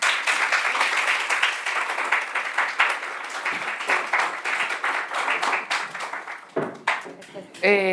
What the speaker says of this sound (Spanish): Recibamos con un fuerte aplauso a la maestra Elena Livinenko.